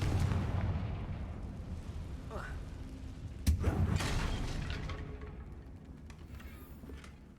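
Confringo spell blasts go off in Hogwarts Legacy, a rolling boom and crackle at the start followed by a sharper explosion about midway that decays into a fading rumble, with no talk over it.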